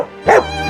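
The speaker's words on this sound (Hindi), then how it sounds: "रस्टी ने चीख कर भौंका" A dog gives a single short, sharp bark up close, standing out clearly over a quiet background.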